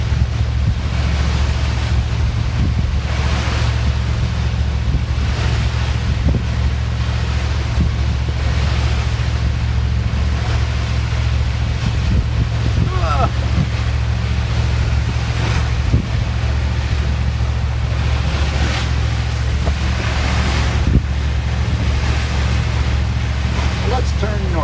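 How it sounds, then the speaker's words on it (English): Atlantic Ocean waves and surf along the coast between Wrightsville Beach and Beaufort, mixed with steady wind buffeting the microphone and a low engine-like drone from a boat, continuous and loud throughout. "Atlantic Ocean, dude."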